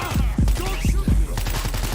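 Rapid gunfire in a zombie video game crackles in dense, overlapping bursts, loud and continuous across the moment.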